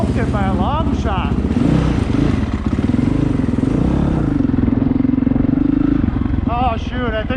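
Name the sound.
Honda CRF450R motorcycle riding with air leak whistling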